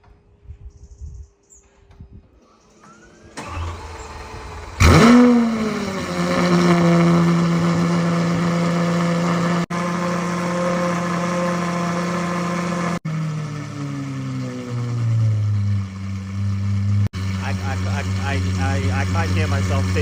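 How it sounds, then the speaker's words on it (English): A Lamborghini Aventador SVJ with a Gintani exhaust fires up from cold with a sudden loud bark, then holds a raspy, high idle that shifts in pitch as a voice talks over it. "Here is a ridiculously loud cold start of my Aventador SVJ with the Gintani exhaust on it."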